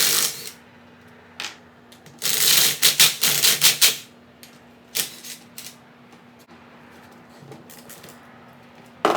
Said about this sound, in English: I'll pop the shifter off of here, and then I'll start taking the tail housing off